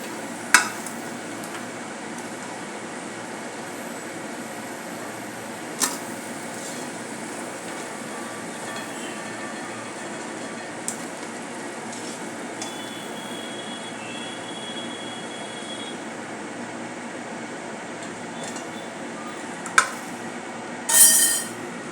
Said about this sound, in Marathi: मिरची तळून घेत आहोत